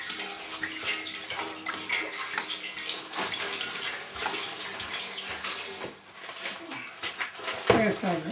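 Two litres of water pour into a pot for a bee feed cake made with sugar, a continuous close splashing gush with voices talking over it.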